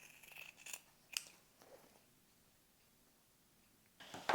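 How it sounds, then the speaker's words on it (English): Sewing scissors trim into a fabric corner with a few quiet, scattered snips, separated by near silence and ending in a louder cut. "I'm going to go ahead and trim into my corner."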